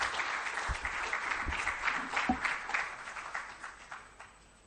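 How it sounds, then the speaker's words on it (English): Audience at a public political forum in Ghana applauds a speaker, a dense burst of many hands clapping that swells and then tapers off. "Let's give him a round of applause."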